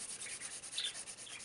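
Dry crayon scratching across paper while drawing, a soft continuous rasping with a few brighter strokes, close and faint, with no voices.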